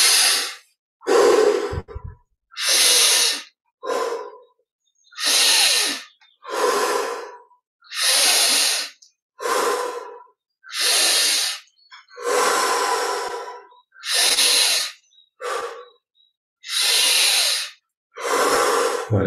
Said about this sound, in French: Inspire par la bouche, expire par le nez.